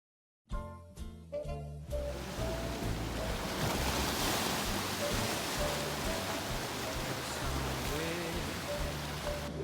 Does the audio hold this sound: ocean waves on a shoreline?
yes